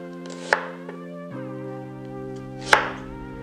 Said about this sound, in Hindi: इसको 1/4 करना है, बहुत ही आसानी से इसको बस 1/4 या फिर रफली चॉप कर लीजिए